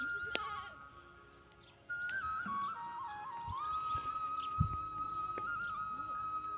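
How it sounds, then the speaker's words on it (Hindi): Goats bleating repeatedly as a herd arrives, the calls close and fairly loud, wavering and overlapping, with a faint whistle-like tone running alongside. "दोनों आए हैं, मोनू और रानी ग्वाला, और पीछे से आ रहे हैं बाकी बकरियों को लेके नीचे से।"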